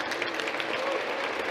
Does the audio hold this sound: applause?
yes